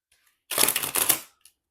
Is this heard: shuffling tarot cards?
yes